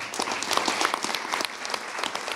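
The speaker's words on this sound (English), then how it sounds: "since we're applauding anyway" An audience applauds at the close of a panel discussion on land-grant universities, a dense, sustained round of clapping from many people with no voice over it.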